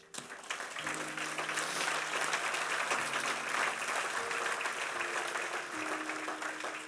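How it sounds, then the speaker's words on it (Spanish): A church congregation applauds during a sermon, a dense, steady wash of clapping lasting several seconds with a low sustained tone beneath it. "Y le debes dar un aplauso al Señor"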